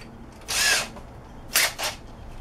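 Two short bursts of a power drill fitted with a spade bit spinning up, the first longer, the second a quick double whir, close by with no talking.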